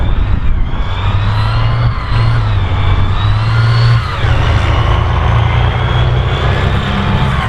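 A Spartan armoured reconnaissance vehicle driven by a learner, its engine roaring loud and steady at close range with a low rumbling drone and small shifts in pitch as it moves.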